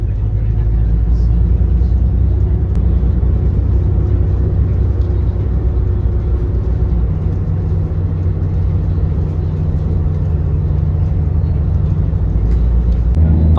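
Steady low engine rumble and road drone fill the inside of a moving public coach travelling between Ennis, the Cliffs of Moher, Doolin and Galway, continuous and fairly loud, with a voice speaking over it.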